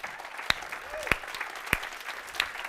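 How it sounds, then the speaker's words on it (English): A handful of sparse, isolated hand claps from a panel-event audience, faint and roughly evenly spaced over a quiet room background. "Let's give a round of applause."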